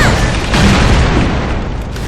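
Ruin Blade skill in the video game Vindictus sets off a loud, sustained booming burst of explosions lasting the full two seconds, with no voices over it.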